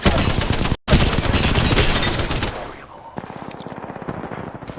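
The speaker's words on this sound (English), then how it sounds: "Getting shot at." Rapid automatic gunfire in the Apex Legends video game, loud and close, with a very brief gap near the start, then lighter, quicker shots trailing off.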